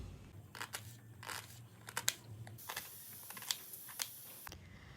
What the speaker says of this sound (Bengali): পেঁয়াজগুলোকে আমি এইভাবে ছোট ছোট করে কেটে নিচ্ছি